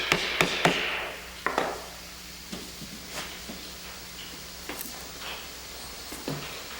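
Sharp taps of a 1/4 inch wood chisel cleaning out a router-cut recess in wood, a few quick clusters of close, crisp knocks spread irregularly with quiet gaps between.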